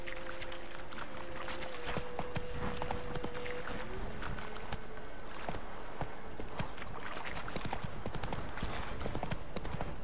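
Horse hooves gallop in The Witcher 3: Wild Hunt on PS5, a fast steady clip-clop running throughout over game ambience and music, loud and close.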